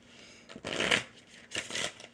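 Oracle cards shuffled by hand in two quick riffling bursts, close and crisp against a quiet room with no talking.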